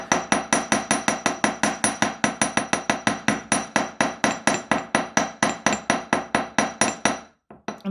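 Small-faced hammer tapping the end of a wire jewellery clasp into a teardrop leaf, a long rapid series of sharp metallic blows at an even rhythm that stops abruptly near the end.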